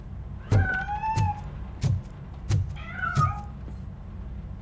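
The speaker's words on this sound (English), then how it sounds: "That cat must be hiding inside." Meows from a hiding cat in the video game Robocop: Rogue City, several short rising-and-falling cries in a loose sequence over a dull low background hum with soft thumps.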